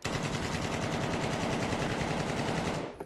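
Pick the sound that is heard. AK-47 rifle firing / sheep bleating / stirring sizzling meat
AK-47 rifle firing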